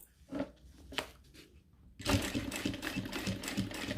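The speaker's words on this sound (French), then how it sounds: "maintenant, je peux coudre" A sewing machine stitching a fabric bike bag runs in short, uneven bursts, then settles into a faster, steady rhythmic whir of needle strokes, close and clear.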